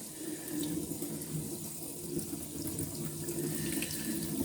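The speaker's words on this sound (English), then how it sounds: "You can just wash it with your hands, but afterwards you need to wash your hands." Running tap water while a cyanotype print is washed by hand, a steady close hiss of flowing water with faint splashes and no voices.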